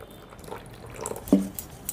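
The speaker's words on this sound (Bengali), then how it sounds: "একটুখানি জল দেব আমি" Water goes into a bowl of batter for puri pitha with a short, light splash and a few drips against quiet kitchen background, without talking.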